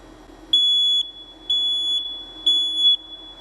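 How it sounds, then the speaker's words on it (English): A smoke alarm sounds three loud, shrill electronic beeps, each about half a second long, evenly spaced about a second apart over a low room hum. "that's your smoke detector telling you it's time, that it smelled smoke"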